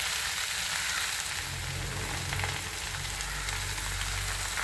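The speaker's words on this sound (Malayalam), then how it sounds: "കടുകിട്ട് പൊട്ടിച്ചതിന് ശേഷം നമ്മളിതിലേക്ക് മുരിങ്ങയിലയാണ് ഇട്ട് കൊടുക്കേണ്ടത്" Mustard seeds and drumstick leaves fry in hot oil in a pan for a Kerala thoran, giving a steady, dense sizzle with faint crackles that fills the whole stretch without any talk.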